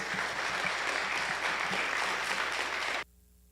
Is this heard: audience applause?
yes